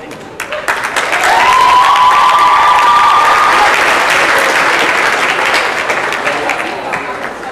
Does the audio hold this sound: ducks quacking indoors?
no